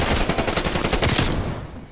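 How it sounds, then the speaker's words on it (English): Close, loud game gunfire from Call of Duty Black Ops Cold War, a quick run of rapid shots filling nearly two seconds before cutting off. "That was a shotgun though"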